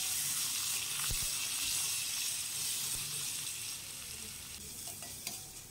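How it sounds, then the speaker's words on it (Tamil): A finely chopped medium onion sizzles and fries in a pan while being stirred, a loud continuous hiss with occasional scraping that eases slightly toward the end. "ஒரு மீடியம் சைஸ் வெங்காயம் பொடியாக கட் பண்ணி சேர்த்துக்கிடலாம். இப்போ சேர்த்துட்டு நல்லா வதக்கி விட்டுக்கோங்க."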